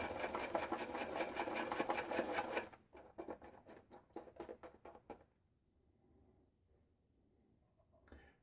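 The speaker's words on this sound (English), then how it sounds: "what I'm going to do, kind of stir this around in here" A Semogue 1800 shaving brush stirs Cella soap lather in a bowl: a dense, close swishing for a few seconds, then a run of quick rhythmic strokes that fades into near silence.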